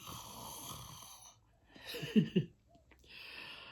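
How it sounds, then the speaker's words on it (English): Close, quiet snoring: a couple of deep, rattling snores in the middle, with soft breathing and faint room hiss on either side. "My mom's snoring."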